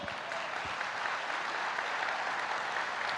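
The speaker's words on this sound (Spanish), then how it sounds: "Dale un aplauso al Señor." Church congregation applauding together, a steady dense wash of clapping hands that holds evenly from start to finish with no voices breaking through.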